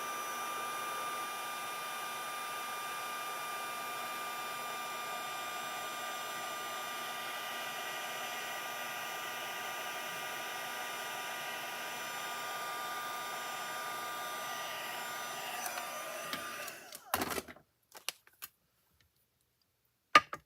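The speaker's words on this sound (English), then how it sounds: "Take my heat tool." A crafting heat tool blows a steady, even hiss of hot air for a long stretch while drying a card, then cuts off, followed by a few faint clicks and handling sounds.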